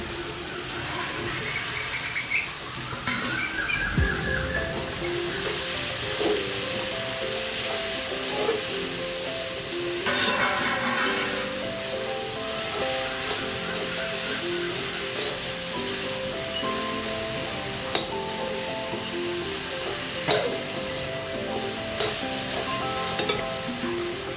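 Vegetables for veg biryani sautéing in a pan over a wood-fired stove, a continuous close sizzle with occasional stirring scrapes and clinks of the spoon.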